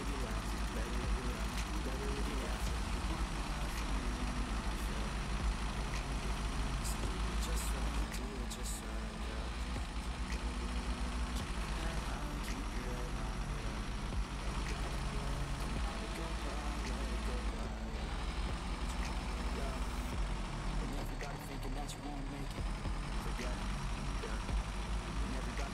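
A heavy truck in the game Snowrunner, out on the Kola Peninsula, holds a continuous deep engine rumble, steady and loud throughout, while people chat over it.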